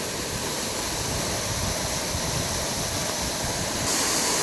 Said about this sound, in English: There is a massive waterfall.